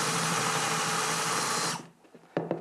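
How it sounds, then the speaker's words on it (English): A power drill fitted with a Forstner bit bores a hole in wood while making a hanging welcome sign. Its loud, steady whine runs for nearly two seconds before cutting off, followed by a few light clunks. "So you just drill it out"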